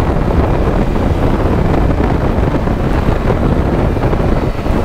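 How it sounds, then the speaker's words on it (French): Triumph Tiger 1200 (2022) motorcycle pulling hard in second gear after a quick clutch kick, a loud, steady engine roar thick with rushing wind buffeting the microphone throughout. "Deuxième, un petit coup d'embrayage et ça part."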